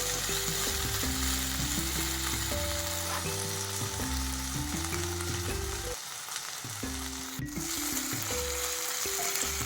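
Steady sizzling of tempering spices frying in hot oil for a brinjal and ginger dish, continuous throughout, with a stepped melodic tone running underneath.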